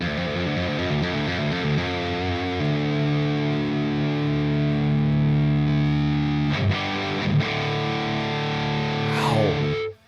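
Distorted electric guitar played through an amp simulator, with sustained chords and a riff ringing continuously and loud, slides and string noise near the end, alone without speech.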